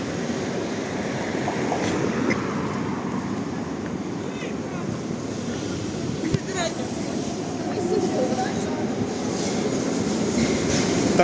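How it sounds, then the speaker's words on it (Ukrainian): A rumbling number 2 tram rolls past in Lviv with steady rail noise and faint metallic squeals, loud and continuous throughout, with a voice talking over it. "Трамвай номер 2 відчуваю по звуку."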